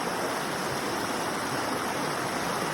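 Stream water flows in a continuous broadband rush near a waterfall, steady and fairly loud without pause.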